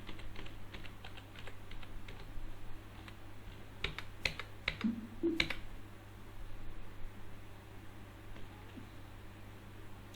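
Fingers tap a computer keyboard in a quick cluster of soft clicks, entering details into accounting software, set against a steady low hum.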